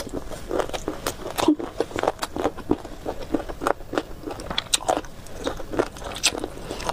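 Someone bites and chews boneless chicken feet in a hot and sour spicy sauce, eaten close to the mouth: a steady run of loud, wet crunches and crackly chews in quick irregular rhythm, with no talking.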